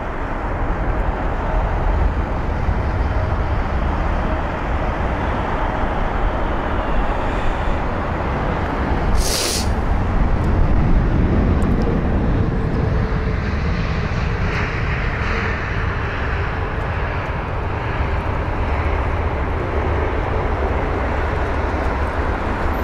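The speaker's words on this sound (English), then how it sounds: "And so our arrival. There you are. So from Amman is the A320neo." Airbus A320neo arriving from Amman at London Heathrow, a loud, steady jet roar that holds for the whole stretch with a brief sharp hiss partway through and no voices.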